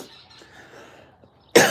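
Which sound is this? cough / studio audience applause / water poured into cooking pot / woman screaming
cough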